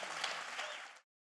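A church audience applauds a married couple at a marriage night, a dense wash of clapping that holds for about a second and then cuts off abruptly.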